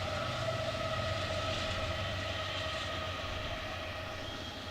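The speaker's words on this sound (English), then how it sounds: "As we got a train going by." Train rolling past near a college baseball stadium during a conference championship game, a steady low rumble with wheel and rail hum holding constant across the whole stretch.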